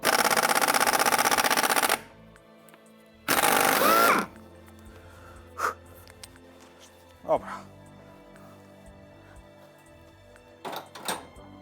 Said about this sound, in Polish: jak przyłożę dużo newtonów z pneumata, to nakrętka pójdzie